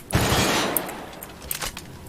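Gunfire from first-person shooter weapons in The Outer Worlds on PC, a loud opening burst that fades into a washy tail, followed by a few quieter scattered shots toward the end, with no talking.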